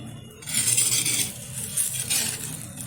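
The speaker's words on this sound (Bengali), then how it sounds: "সরাটা তুলে দিচ্ছি ঢাকনাটা। এখন আমি একটা খুন্তির মাধ্যমে এটা তুলে নেব।" A clay pot lid lifted off, then a metal spatula scraping and clinking against the pot while making milk-soaked clay-pot pitha, with clattery mid-volume scrapes close by and no talk.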